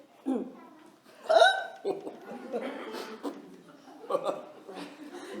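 Repeated sharp hiccups break up a French conversation, mixed with brief chuckles and talk from the people present.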